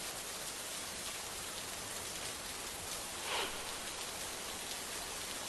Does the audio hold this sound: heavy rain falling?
yes